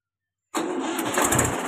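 Silence, then a Mahindra 395 DI tractor engine suddenly cranks and fires, settling into a loud, close, rough running chatter with no voices.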